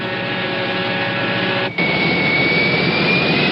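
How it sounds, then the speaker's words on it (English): A chartered Boeing 707 jet airliner engine roars with a steady, loud whine and rushing drone that dips for a moment partway through before carrying on at full strength, close and alone, with no talk. "To get around, the Zeppelin uses a chartered 707, the kind of plane President Nixon uses"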